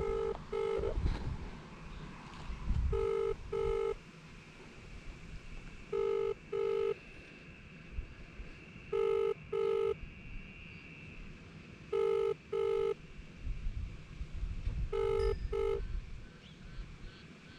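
Phone ringback tone while calling someone: paired tone bursts repeating at a steady interval of about three seconds, ringing six times, clear and moderately loud over a low background rumble, with no one talking.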